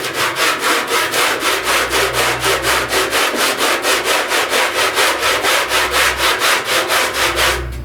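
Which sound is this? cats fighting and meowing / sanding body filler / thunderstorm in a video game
sanding body filler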